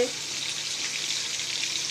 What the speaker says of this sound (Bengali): মাছ ভাজা শুরু হয়ে গেছে,